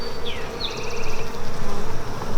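Honey bees buzz steadily around an open hive frame during a queen acceptance check, a dense, continuous drone with a few individual bees whining past close by.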